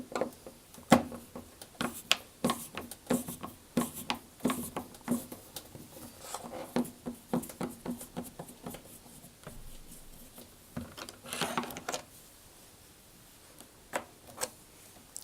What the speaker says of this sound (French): Je vais maintenant dévisser le loquet de l'autre côté.